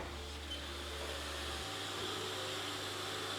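A Haas dual spindle CNC lathe runs with a steady broadband whir and hiss over a low hum, and the low drone shifts pitch about halfway through. The machine is heard alone with no talking.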